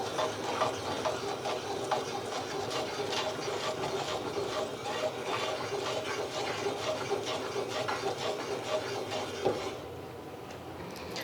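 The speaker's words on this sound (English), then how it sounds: "let's stir the pan" Butternut squash is stirred in a pan of browning butter, giving a continuous close sizzle with soft scraping and rubbing. The sound drops slightly near the end, and nobody talks.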